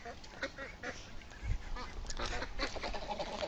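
Ducks on a Bangladeshi village farm quack and honk near shallow beel water, a scattered, moderately close chorus of calls with a low thump midway and faint outdoor ambience.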